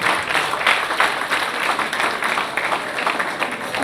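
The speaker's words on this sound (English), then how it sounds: "Let us give them a big round of applause" An audience at a college conference applauds the winners, a brief burst of many hands clapping, fairly dense and moderately loud, with slight swells in intensity.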